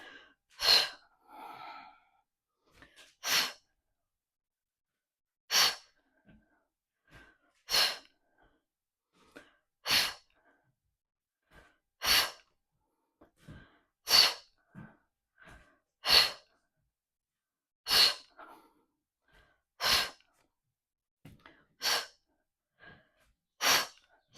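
Forceful TVA core breaths during a marching core workout, short sharp exhales repeated roughly every two seconds, close and clear against near silence, with a few softer breath sounds between them.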